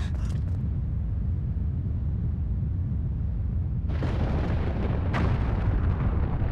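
Hyrule Castle exploding in the video game Zelda Twilight Princess, a sustained deep rumbling roar that swells into a brighter, louder crackling blast near the end, heard alone without talk.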